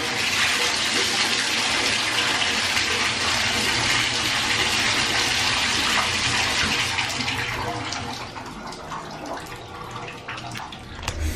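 Water runs steadily from a tap or shower, a loud, continuous broadband hiss that carries on alone and eases to a softer, thinner flow toward the end.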